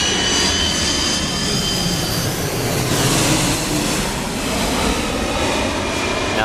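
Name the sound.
airplane landing at Atlanta Hartsfield airport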